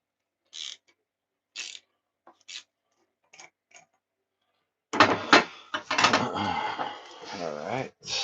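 A chain tool presses a rivet on the drive chain of a 2016 Suzuki GSX-R600, giving a few short, sharp metallic clicks and creaks, followed by louder, sustained mechanical grinding and squeaking at close range.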